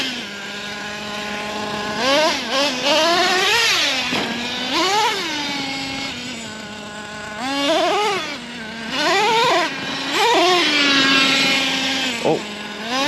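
A Traxxas T-Maxx nitro RC truck at a skate park revs its small engine again and again, a loud buzzy whine sweeping sharply up and down in pitch between idle stretches.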